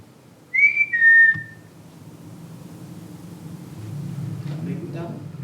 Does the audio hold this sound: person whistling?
yes